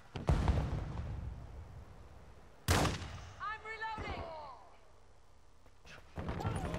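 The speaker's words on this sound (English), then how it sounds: "Throwing a stun grenade!" A stun grenade thrown in the video game Modern Warfare, with a sharp loud bang in the middle among other blasts and gunfire-like cracks, plus ringing tonal warbles afterward.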